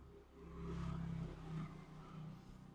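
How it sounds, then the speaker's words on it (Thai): A car engine hums and rises in pitch as it moves past outdoors, fairly loud and steady, then fades slightly toward the end. "ก็มีเสียงรถเสียงอะไรรบกวนเล็กน้อยนะครับ ก็อัดคลิปนอกบ้าน"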